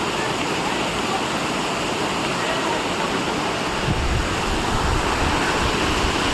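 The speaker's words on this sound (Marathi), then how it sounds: "पाण्याचा पण आवाज येतो एकदम मस्त" The Umbarde waterfall near Nashik in monsoon roars continuously nearby, a loud, dense rush of falling water that never lets up.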